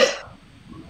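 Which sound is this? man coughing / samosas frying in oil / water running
man coughing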